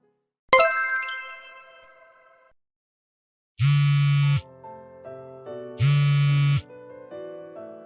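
A phone ringtone: a bright chiming jingle that decays, then two loud buzzing vibration bursts with a melodic ringtone pattern between them, close and clear with no talk.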